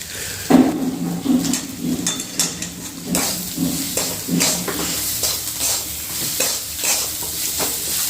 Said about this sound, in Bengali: ভেন্ডি ভাজা হয়ে গেল